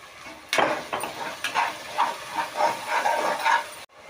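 Ginger, garlic and tomato sautéing in a pan for coconut milk rice, a loud hissing sizzle that swells and fades in repeated waves as the mix is stirred, then cuts off abruptly.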